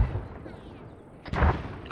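Artillery barrage in the military video game ArmA 3: a steady low rumble of distant fire, then a louder, closer boom burst around the middle of the clip and a sharp blast at the end.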